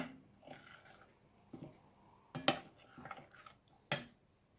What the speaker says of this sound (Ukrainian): Цю суміш яблучну додаю до сирної маси і розмішую ложкою до однорідності